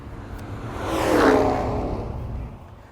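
A Dodge SRT sport truck sweeps past at full speed, a smooth rising-then-fading whoosh of engine and tire roar peaking mid-clip, heard moderately close with no talk over it.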